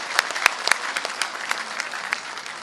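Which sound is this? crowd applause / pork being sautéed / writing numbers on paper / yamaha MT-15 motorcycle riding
crowd applause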